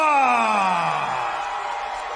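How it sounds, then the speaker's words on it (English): A boxing arena crowd roars and whoops as a fighter approaches the red corner, a loud, close swell of cheering and high yells that fades slightly as it goes on. "Wow, listen to that crowd."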